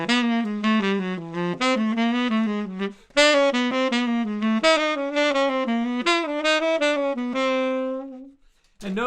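A single melodic instrument plays a jazz enclosure exercise, a quick run of connected notes in phrases with brief breaths between them, close and clear with no talk.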